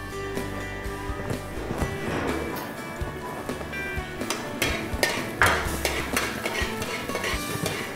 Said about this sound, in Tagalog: Igisa lang po natin ng bawang